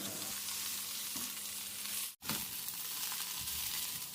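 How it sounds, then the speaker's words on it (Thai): Steady sizzling of pickled mustard greens stir-frying in hot oil, close and continuous, with a brief break midway before the frying noise resumes. "จากนั้นก็ผัดผักกาดดองกับน้ำมันที่เหลืออยู่ครับ"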